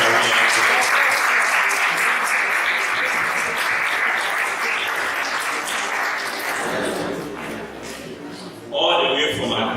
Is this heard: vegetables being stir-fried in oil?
no